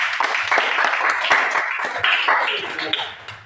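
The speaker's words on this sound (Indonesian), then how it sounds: "tepuk tangan untuk semuanya" Students in a classroom clap together, a lively, uneven burst of many hands with sharp individual claps standing out, gradually thinning and fading toward the end.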